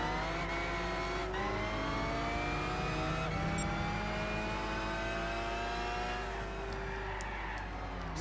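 A Nissan Skyline race car engine in the video game Gran Turismo 6 drones loudly and steadily, its pitch climbing and dropping through several gear changes with no pause, alone without any talk.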